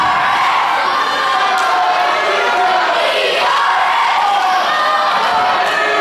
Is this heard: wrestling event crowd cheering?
yes